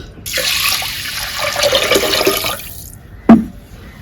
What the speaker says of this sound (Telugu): అంటే 1 చెంబు వాటర్ పోసేసుకొని పొయ్యి మీద పెట్టుకుందాం